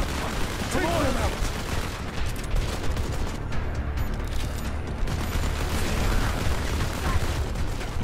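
Sustained gunfire in the Modern Combat 5: Blackout shooter game, heavy overlapping bursts and explosions rolling on without pause, loud and close, with voices talking over the battle.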